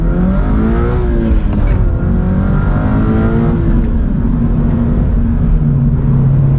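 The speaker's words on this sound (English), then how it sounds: "Squeal the tires a little bit there, going from first to second" A car accelerates hard from first into second gear with a brief tire squeal, the engine note climbing, dipping at the shift and rising again, loud and close throughout.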